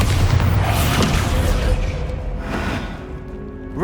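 Bombarda spell explosions in the Hogwarts Legacy video game, loud booming blasts with a crashing, rumbling tail that fades out, coming up close and unaccompanied by any voice.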